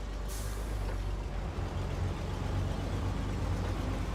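An off-road truck in SnowRunner lets out a brief, sharp air-brake hiss near the start, over a steady, loud, low engine rumble that carries on throughout.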